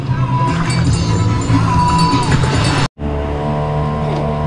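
A Yamaha 4 horsepower outboard engine on a motorboat at Matabungkay drones loudly and steadily up close, cuts out for a split second, then resumes at a steady pitch.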